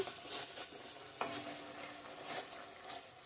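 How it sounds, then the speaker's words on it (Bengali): Coriander and chili powder fry in oil for a fish curry, with soft sizzling broken by scraping stirs and a sharp utensil clink, quiet and close. "ধনিয়ার গুঁড়া লঙ্কার গুঁড়া সব দিয়ে দিলাম ভালো করে কষিয়ে নিব এখন"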